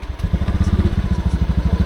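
A motorcycle engine chugs close by and loud, its rapid, even exhaust pulses steady throughout the short stretch on a village road.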